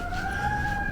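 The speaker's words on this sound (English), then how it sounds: "there's a lot of sirens" A siren wails steadily in the distance, its tone sustained and fairly faint.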